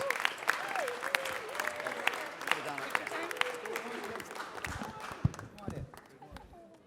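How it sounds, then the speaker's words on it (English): City council meeting audience giving a round of applause, brisk clapping with a few whoops and voices mixed in, gradually thinning toward the end. "Let's give them one more round of applause."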